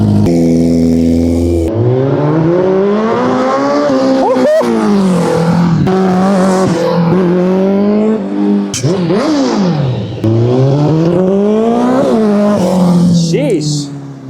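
A Kawasaki ZX-14R sport bike bought cheap from a tow yard is revved hard through the gears, its loud engine pitch climbing and falling repeatedly across several runs, with people talking over it.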